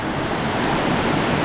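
Waterfall on the Kodachadri trek in the Western Ghats, a steady, loud, broadband rush of falling water heard up close, with no voices.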